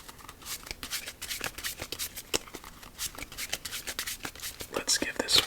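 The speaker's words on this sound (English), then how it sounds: "Let's give this one more shuffle." A deck of playing cards is riffled and shuffled by hand close up in a quiet ASMR setting, with a steady run of crisp flicking bursts and soft whispering under them.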